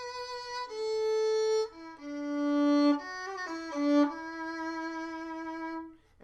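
Solo violin plays the fourth verse of a song as a slow, sustained melody of held bowed notes with a few quick ornamental turns, clear and close, with no talking.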